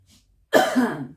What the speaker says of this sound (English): I also apologize in advance for coughing.